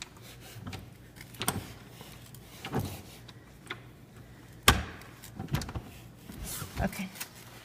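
A deck door off a dining area is unlocked and opened: a series of clicks, rattles and one sharp latch knock spaced over several seconds, fairly close, with quiet room tone between.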